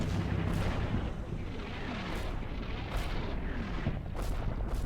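Tank firing artillery shells in the Combat Mission Fire and Rubble war game, set in Poland 1945: a dense roar of distant battle with several booming shots punctuating it at irregular intervals, no talk.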